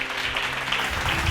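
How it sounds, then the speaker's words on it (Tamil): An audience applauds at a Bible study gathering: a steady, dense wash of many hands clapping together, loud and continuous for the whole brief moment. "கைத்தட்டுங்க அவருக்கு."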